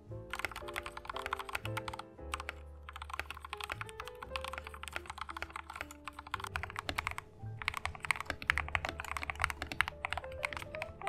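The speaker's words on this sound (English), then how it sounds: "Here's a little bit more typing ASMR for you with the modded board." Typing on a modded YUNZII KC-68 mechanical keyboard, its keystrokes clacking in a steady stream over a loud musical backing with no talk.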